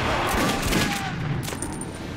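Gunfire in the Metro video game: a dense, muffled burst of rapid shots and rumble that eases off toward the end, heard without talking.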